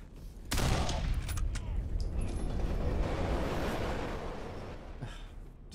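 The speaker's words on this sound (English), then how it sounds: "I can still use the shotgun" Shotgun blast in the horror game Condemned: Criminal Origins, a sudden loud boom with a long rumbling decay, a few sharp clicks and taps before it, and soft talk briefly over the tail.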